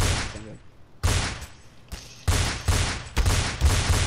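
Desert Eagle pistol shots in Counter-Strike: Source, fired as a quick run of loud, sharp bangs, several close together after a quieter opening.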